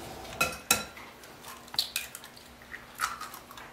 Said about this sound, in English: Now we're going to add our turkey.